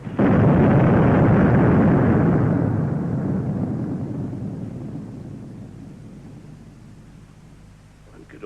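A battery of guns fires in a film, producing one loud, booming blast at the start that rolls on and slowly fades over several seconds.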